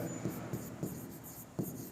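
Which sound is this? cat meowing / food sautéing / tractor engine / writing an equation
writing an equation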